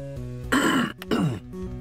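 Someone clears their throat and coughs close into a microphone, two harsh rasping bursts with a short gap between them, over a faint steady background tone from a Doom game.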